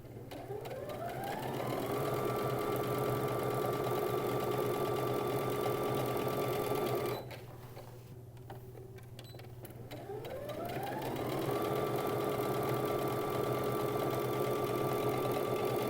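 A sewing machine runs loud and steady while stitching a quilt seam with a quarter-inch foot and blade attachment, whirring up to speed, pausing briefly midway, then revving back up into another sustained run.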